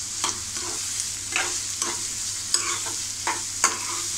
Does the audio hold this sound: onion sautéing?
yes